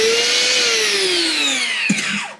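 A loud Bosch GBS 750 belt sander whines steadily close up at about 99 decibels, its pitch slowly falling, with a brief clunk near the end before it winds down.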